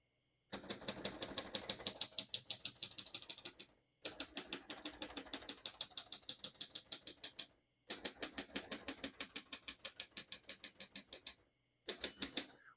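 Keys clack rapidly and evenly on a 1943 Royal Quiet De Luxe portable typewriter, crisp and close, in four bursts of steady typing separated by short pauses.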